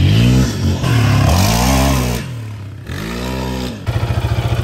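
A 2023 Yamaha Raptor 700R SE ATV ridden through mud, its engine revving hard and loud in repeated surges that rise and fall in pitch, then settling into a rapid, lumpy idle-like throb at the end.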